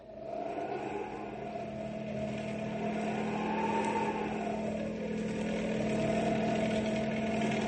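Steady car engine drone in a radio drama, continuous and moderately loud with a slowly rising and falling pitch, like a vehicle cruising along without talk over it.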